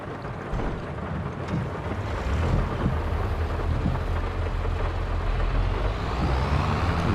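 Steady rain in the farming game Farming Simulator 22, a dense continuous wash with low rumbling underneath, fairly loud and unbroken, no voices.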